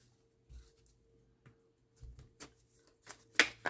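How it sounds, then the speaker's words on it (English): Game cards from a fast action deck being shuffled during a tabletop baseball game, heard as a few scattered soft riffles and taps with quiet gaps between them, growing brighter and more clustered toward the end. "this will require some shuffling of the fast action deck and flipping it over and resetting everything"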